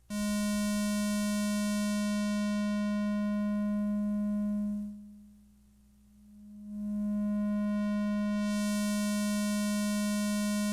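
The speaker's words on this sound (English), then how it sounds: "So this is what you call a low-pass filter." A sustained buzzy synth tone from a Korg Electribe 2 has its low-pass filter swept down, dulling the sound to a muffled hum, then opened again so the bright upper harmonics return, steady and alone.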